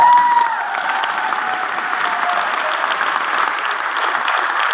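A crowd claps loudly and steadily, a dense, sustained round of applause that holds at an even level throughout.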